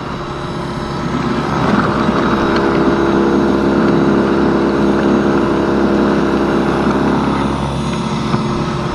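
An EGO electric snow blower with a steel auger runs steadily, its loud, close whirring motor hum holding throughout with no pauses and nobody speaking.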